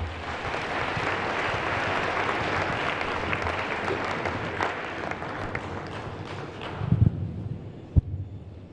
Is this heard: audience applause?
yes